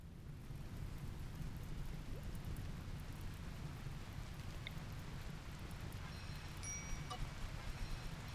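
Steady rain falls in the colony-building video game RimWorld, a constant low rushing wash with no break, heard alone at a moderate, even level.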